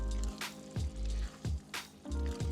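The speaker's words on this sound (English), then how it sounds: "now all the pasta goes in. And we mix." Pasta being stirred into a pot at a desert camp, giving wet squishing, sloshing sounds in several separate strokes, close and fairly clear, with no talk over them.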